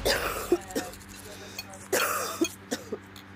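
Several short, sharp coughs and throat-clearing bursts come in scattered succession, close up, with muffled voices in the background.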